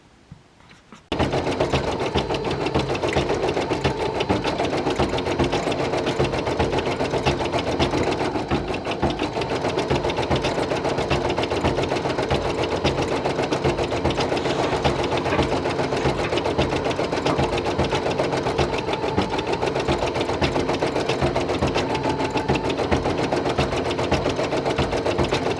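Brother PE800 embroidery machine stitching a patch on felt, a loud, steady, rapid mechanical needle clatter that starts abruptly after a second of quiet and runs without a break, close up and with no talking.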